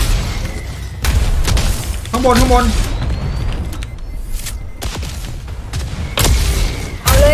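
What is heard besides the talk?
cannon fire in the video game Midnight Ghost Hunt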